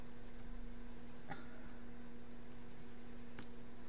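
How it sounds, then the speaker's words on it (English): A pencil shades a sweat bee sketch on paper with a steady, soft, close scratching hiss and a couple of sharper taps from the lead, set against a faint constant hum and no speech. "I'm gonna go in and shade these a little darker back here"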